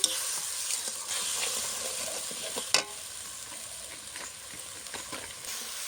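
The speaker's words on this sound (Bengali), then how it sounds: "মশলাটা এখন ভালো করে কষিয়ে নেব" Spice paste with chili powder and a little water is sautéed in a pan for a Bengali fish curry, giving a steady hissing sizzle with scraping stirs and one sharp clack midway.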